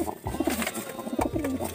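A female laying pigeon kept as a breeding hen coos in low, rolling, repeated calls, close and clear over a faint background.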